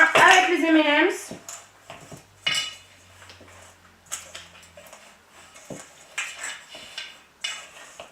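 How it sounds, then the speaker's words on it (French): Cookie dough with M&M's is stirred in a bowl, producing intermittent scraping and clinking strokes of a utensil against the dish, close and fairly quiet, with a brief voice at the start. "on mélange bien avec les M&M's"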